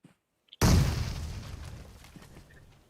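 A grenade explodes in the PUBG Mobile game: a brief click and silence, then one loud, close boom that rumbles and slowly fades.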